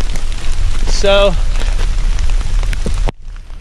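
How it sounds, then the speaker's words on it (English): Cold rain falling steadily during a Thanksgiving Day hike in Red River Gorge, a loud constant hiss of drops on surfaces, with a brief voice partway through before the sound cuts off abruptly. "Hiking in the cold rain, it ain't fun."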